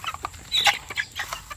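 Free-range chickens cluck busily while feeding at mealtime, a quick run of close, fairly loud clucks and squawks that rise and fall in short bursts.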